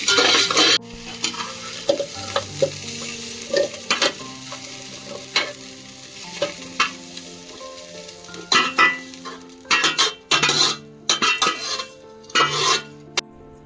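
A fried mixture stirred with coconut masala powder, garam masala and chilli powder in a pan for chicken sambar: a continuous soft sizzle with repeated scraping and clinking of a metal spoon against the pan, growing busier and louder toward the end.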